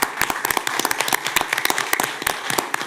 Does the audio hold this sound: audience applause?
yes